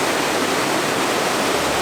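Fast-falling water rushes loudly and continuously through Lydford Gorge, a dense, steady roar of cascading water close by with no voices over it.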